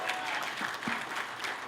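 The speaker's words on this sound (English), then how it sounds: "Give them a giant round of applause." Audience at a panel discussion breaking into a short burst of dense applause, fairly close and loud, with a voice speaking over it.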